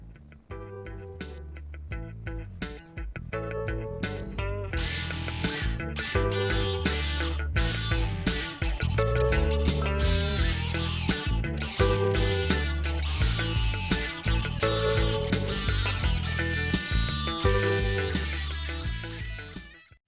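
Heavily distorted electric guitar plays a dense, driving riff at full volume for around twenty seconds, with busy picking and chugging low notes.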